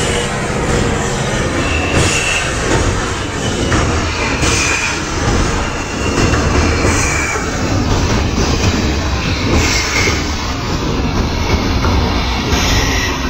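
A train rolls slowly in the MSTS train simulator, producing a continuous loud rumble with wheel squeal and faint clatter and no talk.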